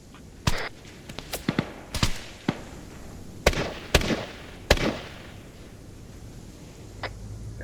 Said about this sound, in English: I've heard a couple of shots